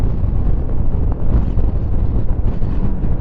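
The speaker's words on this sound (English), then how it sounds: "Woo, that's windy. That blew me off the road." Loud, steady wind buffeting a microphone while riding a 2025 Lifan KPT 400 motorcycle, a dense low roar that swells in gusts throughout with no talking.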